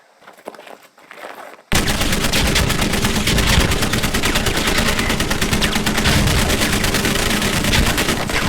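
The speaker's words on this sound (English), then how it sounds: "You will be stressed, and this is a live fire exercise." Gunfire at a live fire military training exercise erupts suddenly after a quiet start, then rattles on in loud, rapid continuous bursts like machine guns until the end.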